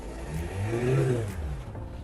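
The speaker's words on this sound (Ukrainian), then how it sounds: "Зараз ми газнемо посильніше." A 2007 Mitsubishi Outlander 2.0 engine hums and rises in pitch as it is revved harder, a steady low drone building then easing slightly; the car smokes, won't accelerate, with turbo blow-by and EGR fault P0487.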